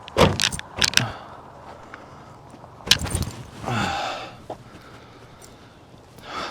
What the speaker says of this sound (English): Close the hood on it.